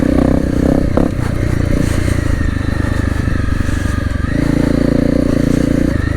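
Honda CRF250L trail motorcycle riding a bumpy lane near the Three Peaks, with a steady loud engine drone, rattling and clattering from the rough surface, a brief jolt near the start and a louder stretch toward the end.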